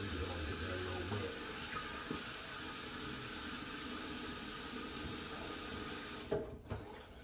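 Tap water runs steadily into a sink while a beard is wetted, a continuous close rush with faint shifting splashes that stops near the end.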